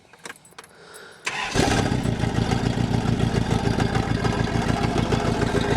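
A Toyota Corona ST141 engine cranks over briefly on a cold morning without throttle, then catches and settles into a loud, steady, close idle with an even pulsing beat.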